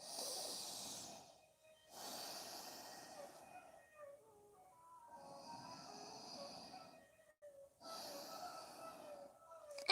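Slow, deep breaths during a yoga stretch, heard as soft, close inhales and exhales with breathy hiss, several cycles separated by brief quiet gaps.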